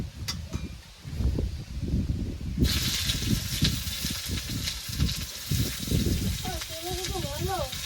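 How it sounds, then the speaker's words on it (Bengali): Onions hit a little hot oil in a pan and set off a sudden bright sizzle that carries on steadily while a person talks over it. "পেঁয়াজটা দিয়ে দিয়েছি, এবার নেড়ে চেড়ে ভেজে নেব।"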